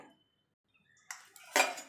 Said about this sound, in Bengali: এবার গ্যাসটাকে নিভিয়ে দেবো, নিভিয়ে কচুটাকে ছেঁকে নেবো জল থেকে